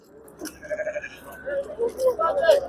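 Several sheep bleat in quick succession close by at a livestock market in Jizzakh, wavering calls overlapping one another, with people talking nearby.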